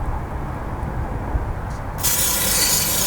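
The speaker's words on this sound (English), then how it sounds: "WD-40 inside, silicone, rubber friendly WD-40, not standard WD-40" A can of silicone, rubber-friendly WD-40 sprays into the engine of a smoking MK2 Golf GTD diesel, a sudden loud hissing burst that starts partway through and holds steady over a low running rumble.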